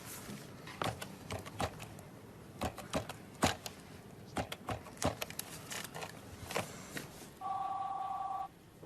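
Rapid tapping and clicks lead up to a brief electronic telephone ring tone near the end, clear and close, with no voices.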